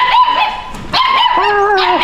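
Small dogs yipping and barking in quick bursts, close by at a market in Barotac, with whiny high-pitched yelps between barks and no talking.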